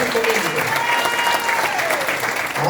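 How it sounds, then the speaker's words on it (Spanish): A church congregation claps in a sustained, loud round of applause, dense and continuous, with a murmur of voices mixed into the clapping. "Den ese aplauso más fuerte al Señor."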